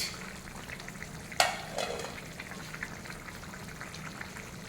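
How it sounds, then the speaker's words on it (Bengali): Pre-fried fish drops into a simmering cauliflower curry, a single splashy thud followed by a brief wet hiss, then the low steady bubbling and sizzle of the pot. "এখন দিয়ে দেবো ভেজে রাখা মাছ"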